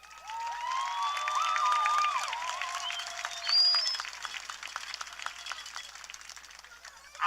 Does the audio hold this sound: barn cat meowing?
no